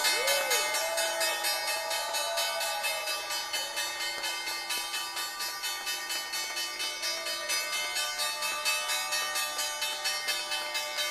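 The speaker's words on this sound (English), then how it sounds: "we'll bring you the bell first." New York Stock Exchange opening bell ringing at the start of a Monday trading session: a loud, continuous, rapidly pulsing electric bell sustained for over ten seconds, with a crowd murmuring beneath it.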